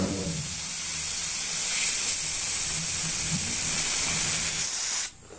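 Oil-free 25-liter electric air compressor running, a loud, steady hiss of rushing air with a faint mechanical hum underneath that cuts off abruptly near the end.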